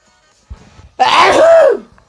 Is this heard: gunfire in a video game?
no